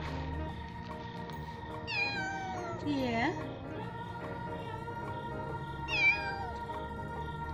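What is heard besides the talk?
kitten meowing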